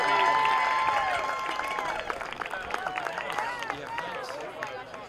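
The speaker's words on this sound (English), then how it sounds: "a nice round of applause for our first team All-Conference Mountain East Cross Country runners" Crowd applause and cheering for first-team All-Conference Mountain East women's cross country runners at a championship ceremony, steady clapping with scattered whistles and shouts that slowly ease off.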